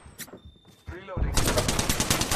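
Rapid automatic gunfire in Apex Legends, a dense burst of loud close shots that starts after a second of scattered quieter sounds and continues to the end.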